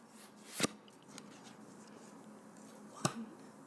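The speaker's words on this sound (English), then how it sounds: "I'm going to draw 3 cards to start with" Tarot cards drawn from a deck, two sharp close card snaps about two and a half seconds apart with faint rustling between, in a quiet room.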